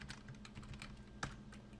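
Quick, light keystrokes on a computer keyboard, a short run of soft clicks with one sharper tap near the end, quiet and close.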